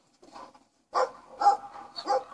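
A dog barks in several sharp, close bursts with short pauses between them, loud and clear with no talking over it.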